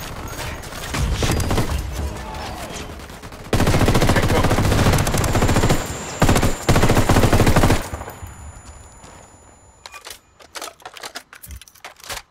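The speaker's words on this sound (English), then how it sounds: "I'm opening fire." Dense automatic gunfire in the tactical shooter Ghost Recon Wildlands, loud sustained bursts roaring for several seconds, then thinning into scattered single shots and sporadic cracks as the firefight tapers off.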